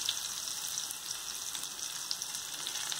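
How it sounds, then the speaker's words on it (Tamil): Large onions with curry leaves frying steadily in hot oil in a pan for palak kuzhambu, a close, even, rain-like sizzle with faint crackles throughout and no talk. "இந்த வெங்காயம் வந்து கொஞ்சம் நல்லா செகப்பாக வறுபடணும், வதக்கணும்"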